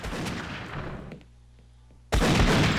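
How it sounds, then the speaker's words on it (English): Gunfire in the shooter game Half-Life: Opposing Force, loud sustained bursts of shots that cut out for about a second under a low hum, then crash back in at full volume. "Why stop shooting? They're attacking me."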